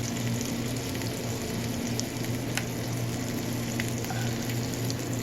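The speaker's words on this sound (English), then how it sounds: "Since these are small, they should only need like a real quick light sear." Small shrimp given a quick, light sear in a hot pan: a steady, even sizzle and hiss at moderate loudness that holds unbroken throughout, with no voices.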